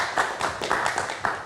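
Audience applause for Ustadz Dennis Lim at a live Ramadan talk show, a brief burst of many hands clapping, loud and close, with uneven peaks throughout.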